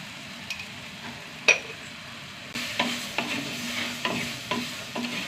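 Turmeric powder, chili powder and salt fry in a pan and are stirred, giving a quiet, steady sizzle broken by sharp scrapes and clicks of the spoon against the pan.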